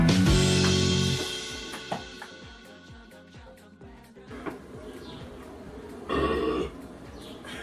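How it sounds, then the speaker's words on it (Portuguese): A loud, close burp at the start, then quieter throaty sounds amid music and background noise, with another brief burst near the end. "Tô vendo se gravou teu arroto."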